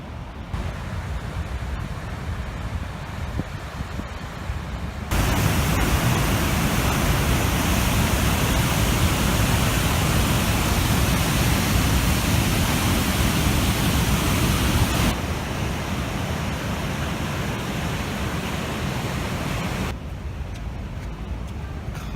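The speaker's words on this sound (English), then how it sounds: "We're at Athabasca Falls now. This is Athabasca River." Athabasca Falls on the Athabasca River in Jasper National Park pours in a steady, broad rushing roar, growing louder and closer in the middle stretch before easing back, with no speech.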